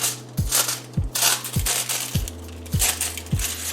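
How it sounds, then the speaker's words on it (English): Scissors snip repeatedly through folded tin foil, six crisp crinkling cuts in a steady rhythm about half a second apart, close and clear with no talking. "then take your scissors and just cut the tin foil"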